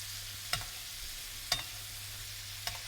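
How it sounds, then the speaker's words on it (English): Butter spooned over a steak in a hot pan gives a soft, steady sizzle, broken by three sharp clinks spaced about a second apart, with a low hum underneath and no talking. "scoop that butter up and just pour it over that meat"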